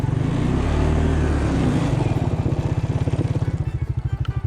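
A Suzuki King Quad ATV in two-wheel drive revs in snow, with its engine droning loudly and then settling into a fast, pulsing putter as the wheels struggle for grip.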